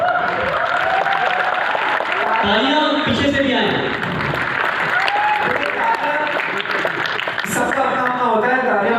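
Audience applause at a talk at IIT Indore, a steady crowd clapping running underneath someone speaking Hindi throughout.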